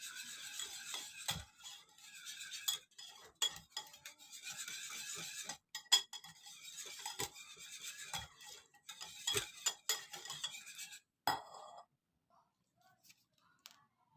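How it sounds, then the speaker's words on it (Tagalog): A utensil stirring a creamy jelly flan mixture in a bowl gives repeated scraping and clinking strokes at an uneven rhythm, fairly quiet and close, with a few sharp taps before it falls almost silent near the end. "Halo-haloin lang natin"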